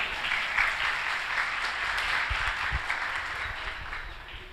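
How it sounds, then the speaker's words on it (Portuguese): A church audience gives a steady round of applause for helpers standing at the front, a continuous wash of many hands clapping at moderate volume that slowly fades toward the end. "Uma salva de palmas aqui para meus ajudantes."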